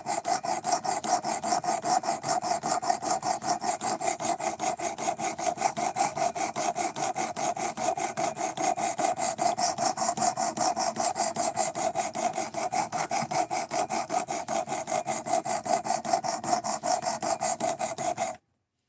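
A knife blade is sharpened with long, rhythmic rasping strokes, each stroke evenly spaced and close, repeating steadily for nearly twenty seconds with no voices.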